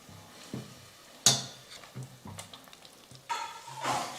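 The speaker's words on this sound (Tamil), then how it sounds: "இந்த விழுதை சேர்த்துட்டு ஒரு 2 நிமிஷம் நம்ம வதக்கிக்கலாம்." Mint-coriander paste sautéing in a pan, with light sizzling and intermittent stirring clicks and scrapes of a utensil against the pan, close and fairly quiet, no talk.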